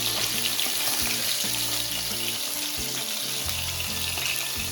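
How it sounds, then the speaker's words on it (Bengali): Bhola fish sizzles and crackles in hot oil, a loud, dense, continuous frying hiss close up, with no one speaking. "এক এক করে মাছগুলোকে সব ভেজে নেবে"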